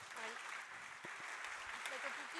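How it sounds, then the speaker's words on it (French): An audience at a roundtable conference on family businesses applauds warmly, soft and continuous, with some talking heard over the clapping. "On les applaudit tous les deux chaleureusement."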